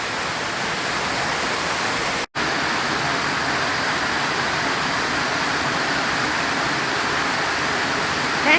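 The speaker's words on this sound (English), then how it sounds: "We are getting lots of rain." Heavy rain pours steadily outdoors on a flooded farm property, a dense, constant hiss that continues without pause apart from one very brief cut, with no voices.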